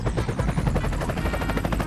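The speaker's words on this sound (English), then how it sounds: "the helicopters are so much more easy to control than they were in WAC" A helicopter flies in the game Garry's Mod with a loud, close rotor chop of fast, regular beats throughout, and no one speaks.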